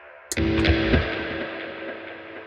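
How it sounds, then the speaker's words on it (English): Electric guitar played through a fuzz pedal: a sharp struck chord, a second hit moments later, then a thick distorted tone that sustains and slowly fades, with no talking. "Let's start adding some pedals. The fuzz."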